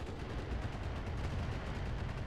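Mech weapons fire in the Roguetech video game as a dense, continuous barrage of booming gunfire and explosions, loud and unbroken throughout with no pauses.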